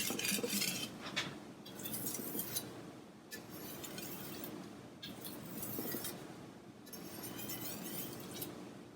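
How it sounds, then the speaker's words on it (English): A kitchen knife is stropped at a consistent angle, drawn in long repeated strokes that give a light metallic scraping and faint clinking, with several short gaps between passes. "I'm stropping this knife at the same angle that I was sharpening it at"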